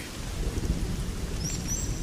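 Steady rain falls in the Serengeti with a low rumbling underneath, a continuous dense hiss of moderate loudness and no voices.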